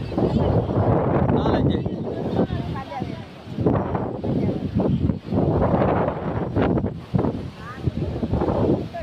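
Strong sea wind buffets the microphone on a seaside watch tower, a loud, continuous roar that surges and dips in gusts throughout.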